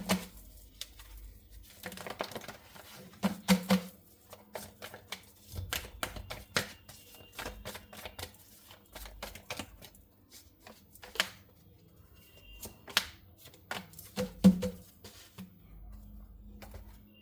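Tarot cards being shuffled and drawn, giving soft papery riffles and light flicks in scattered bursts, close and fairly quiet, with a faint hum underneath and no talking.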